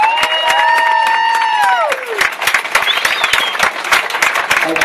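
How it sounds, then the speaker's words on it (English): A crowd at a charity boxing night claps and cheers loudly, with shrill whistles riding over the applause before it thins into scattered clapping. "give a huge round of applause"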